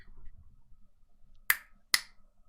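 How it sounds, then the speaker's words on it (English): Two sharp, close finger snaps about half a second apart, crisp and loud against a quiet, low background hum. "I can consistently finger snap well"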